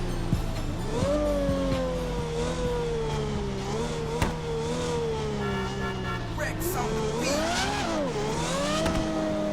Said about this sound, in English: I'm just admiring the sounds of this Revolto